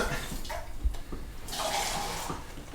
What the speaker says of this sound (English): Then I'm going to put a bit of water in the other tin,